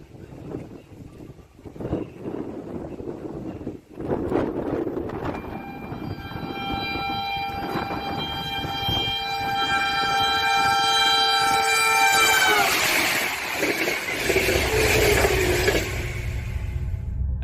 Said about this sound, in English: This is when the train starts squealing to warn him of its presence.